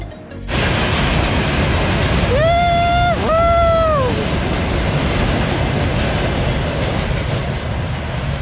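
A coal freight train rolls past in a coal-mining area of the Ural Mountains, a loud, close rumble and clatter throughout, broken by two long horn blasts in quick succession.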